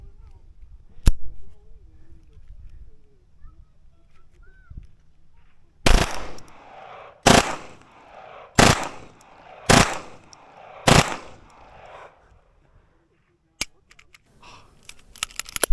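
A compact Taurus TX22 pistol fires five loud, sharp shots in an uneven sequence roughly a second apart, close to the recorder, with a couple of fainter isolated bangs before and after and quiet outdoor background between.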